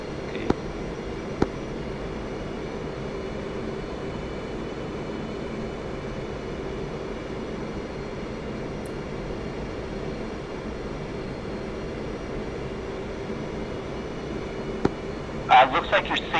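An F/A-18 jet makes its landing approach in the DCS flight simulator with a steady, constant engine drone that holds through the whole stretch. A few faint clicks sit on top, and short speech-like bursts come near the end.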